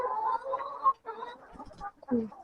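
Chickens in a coop clucking and murmuring close by in a few short bursts, with a brief louder squawk near the end.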